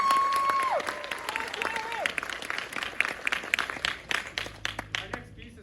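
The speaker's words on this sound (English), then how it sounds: "So round of applause." At a 2023 high school winter concert, an audience applauds after a piece ending in a timpani solo. A burst of clapping with a few whistle-like cheers at first thins into scattered, uneven claps.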